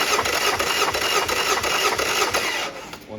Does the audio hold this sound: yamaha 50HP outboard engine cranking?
yes